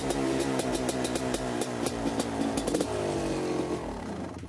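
A two-stroke motorcycle engine runs on a roughly 5% oil-in-fuel mix, revving hard and loud up close with rapid crackling bursts and a dense, raspy exhaust tone that holds for several seconds before easing.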